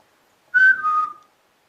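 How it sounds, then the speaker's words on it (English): A single short two-note whistle from a person, clear and fairly close, rising then sliding down, set against near silence. "I'm going to whistle."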